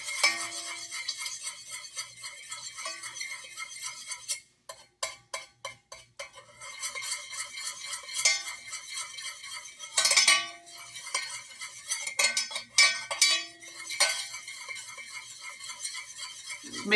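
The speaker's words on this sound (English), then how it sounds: "Make sure you stir it all in there." A spoon stirring a homemade lip balm mixture in a small container, with repeated light clinks and scrapes in bursts, close by, with brief quiet gaps between them.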